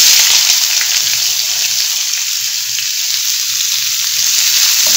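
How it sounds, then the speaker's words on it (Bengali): Steady, loud sizzling of onions frying in hot oil, a dense crackling hiss that continues without a break and with no voices. "পেঁয়াজটা 2 মিনিট ভাজা হোক।"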